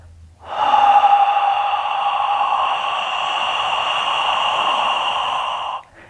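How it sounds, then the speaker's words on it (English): A long, steady exhale out the mouth during bone breathing qigong, a loud close breathy whoosh lasting about five seconds, alone with no talk. "Lower your tongue and exhale out the mouth as you do this."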